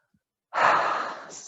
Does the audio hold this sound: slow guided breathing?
yes